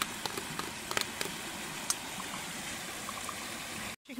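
Water poured into a cooking pot for miso soup outdoors, a steady splashing trickle that runs for several seconds at close range before cutting off abruptly.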